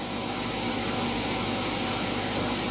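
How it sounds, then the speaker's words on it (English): New shop vacuum sucking up loose plastic, a loud continuous roaring rush with no pauses, close to the microphone. "I love this new shot vac I got."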